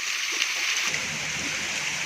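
A small waterfall splashes steadily beside Jammu Road in Pona valley among mountains and pine trees, a close, continuous rush of falling water with no pauses.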